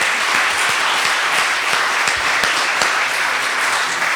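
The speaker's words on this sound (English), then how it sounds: "Let's give another round of applause for all of our storytellers" An audience applauds storytellers at a live storytelling event, with loud, dense, sustained clapping filling the room for several seconds.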